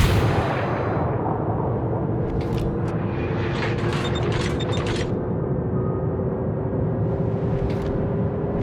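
Naval guns firing in the World of Warships game, a dense low rumbling roar of cannon fire with sharp mechanical clatters and bursts layered over a steady drone.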